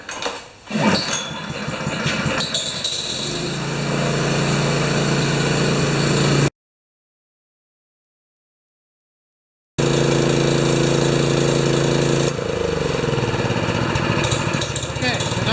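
A Honda engine on a wheelbarrow-style air compressor cranks and catches, then settles into a steady, loud, rattling idle. It drops out briefly and then runs on again at an even, throbbing pace.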